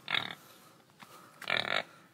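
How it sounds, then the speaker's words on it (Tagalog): A pig near a nipa hut on a hillside in Marinduque gives two short bursts of grunting squeals, moderately close, separated by a quiet pause with a faint thump. "May baboy pa."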